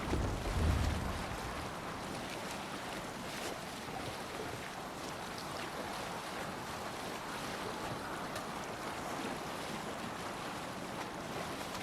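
A sailing ship in Assassin's Creed Valhalla cuts through ocean waves under raised sail, with a steady, continuous rush of water and wind noise that holds level throughout and a slightly louder swell at the start.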